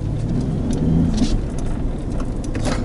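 Steady low rumble of a Jeep with a manual transmission being driven on the road, its clutch slave cylinder broken, engine drone continuous and fairly loud with faint clunks as gears are shifted without the clutch.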